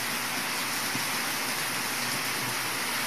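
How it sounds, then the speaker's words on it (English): Heavy rain pours down as a dense, steady hiss during a hurricane, even and unbroken throughout with no voices. "it started raining. So it's coming down somewhat hard"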